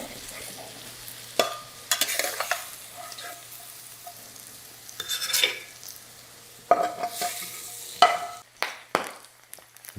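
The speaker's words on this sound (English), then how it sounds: "a perfectly fried sunny side up egg" Sunny side up eggs fry in a pan with a soft, steady sizzle, broken by a few clinks and scrapes of a utensil against the pan.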